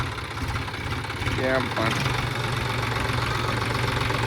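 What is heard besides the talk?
tractor engine idling after being started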